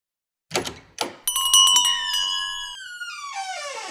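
A front desk bell struck twice with dull taps, then rung in a bright, sustained metallic chime whose ringing tones linger and fade, close and loud in a quiet room.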